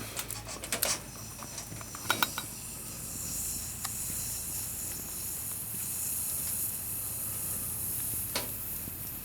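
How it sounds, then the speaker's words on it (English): Steady, fairly loud hiss of steam escaping from a stove, running throughout, with a few brief clicks and knocks near the start. "Quite a bit of steam, actually."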